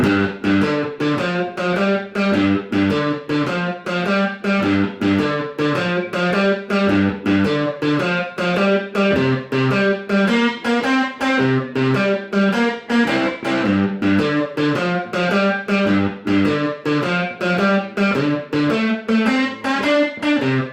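Electric guitar plays a mid-tempo Texas blues shuffle pattern, a steady swung chug of low chord stabs repeating evenly throughout, slightly driven and alone.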